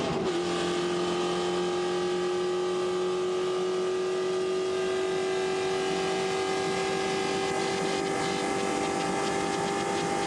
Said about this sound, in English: That is a sickly sounding engine.